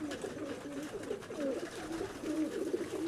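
Pigeons at a loft belonging to a champion pigeon keeper, cooing in low, repeated throaty warbles, close and steady throughout with no voices over them.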